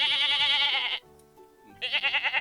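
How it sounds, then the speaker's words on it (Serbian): A goat bleats in two long, wavering cries separated by a brief quiet gap, loud and close, with no talking. "A kako se koza čuje?"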